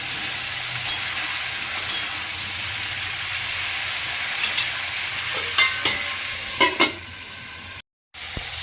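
Mixed vegetables frying in a pan with ginger paste, cumin, coriander, turmeric and green chili, giving a constant loud sizzle with occasional scraping stirs and a brief cutout near the end.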